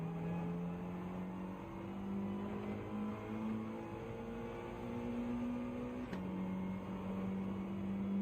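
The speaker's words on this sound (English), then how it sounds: "Rev the bollocks off the Evo" A Mitsubishi Evo engine in Gran Turismo 7 holds a steady, fairly quiet rev, with the pitch creeping upward, dipping briefly and then settling again.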